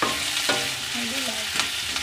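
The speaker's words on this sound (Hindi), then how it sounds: "ये प्याज, इसको चलाते हैं फ्राई करना है" Onions sizzle steadily in a pan while a spoon stirs them, with scraping strokes over a continuous frying hiss, close up.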